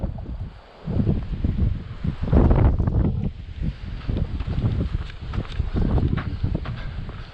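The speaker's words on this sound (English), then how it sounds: "Hear the wind rushing through those partitions up there." Gusty wind rushes and buffets around an old abandoned school building, a steady rough roar with swells and muffled thumps from handling or footsteps, loud and close to the microphone, with no talk.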